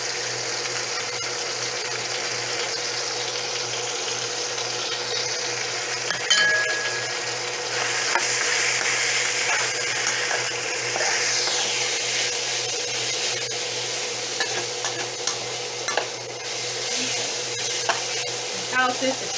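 Beef and garlic hit hot oil in a high-heat stir-fry pan, giving a steady broad sizzle that swells as the food goes in, with occasional stirring clatter.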